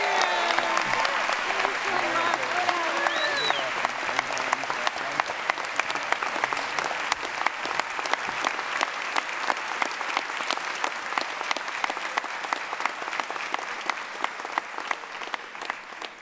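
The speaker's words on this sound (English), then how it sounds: "Please applaud Sarah Powell, everyone." A university commencement audience breaks into sustained applause, dense rapid clapping from a large crowd holding steady for about sixteen seconds before easing slightly at the close.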